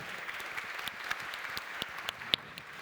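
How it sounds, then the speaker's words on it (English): Scattered applause from a forum audience at a closing session, fairly quiet with individual sharp claps standing out over a soft continuous patter. "I think it calls for an applause, because that's quite a statement."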